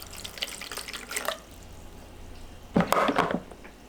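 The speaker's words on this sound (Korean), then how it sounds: "물에 헹구고" Water splashes and sloshes in two short bursts, close by, with quiet dripping and a pause in between, as sliced potatoes are rinsed in water.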